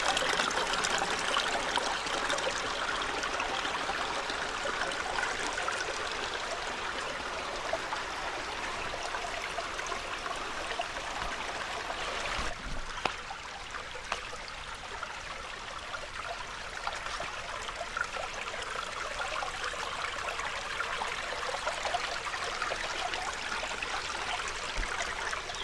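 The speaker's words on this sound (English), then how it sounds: "the water basically is flowing underneath this boulder field" Stream water rumbles and trickles through rocks beneath a boulder field, a continuous, faint, steady wash with no voices.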